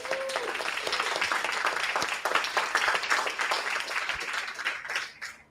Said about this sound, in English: if I could get the room for a round of applause again,